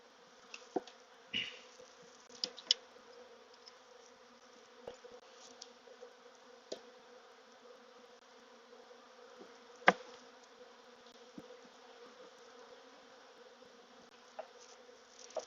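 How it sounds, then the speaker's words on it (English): Honeybees hum steadily at an open hive during an autumn inspection, a continuous low drone with occasional sharp clicks and knocks, heard close and without talk. "There's a lot of bees here."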